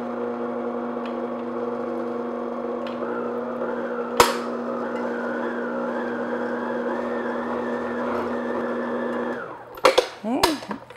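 An electric mixer runs on low speed, blending flour into lemon cranberry pound cake batter with a steady motor whine for several seconds, then stops; a sharp knock sounds midway and brief clatter follows at the end.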